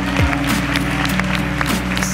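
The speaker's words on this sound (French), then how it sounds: "on peut applaudir très fort" Audience applause for the winner of a young fashion designers' contest, clapping heard under a loud sustained musical tone with bright accents, fairly close and steady.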